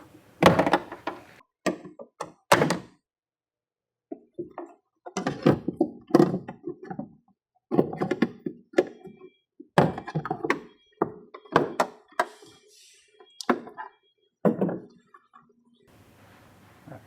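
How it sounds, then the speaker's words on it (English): A series of sharp plastic pops and thunks, irregular and close, as a clip removal tool pries a Toyota Tundra rear door panel loose, with scraping and handling noises between them. "We use our clip removal tool to pop the door panel free from the door itself."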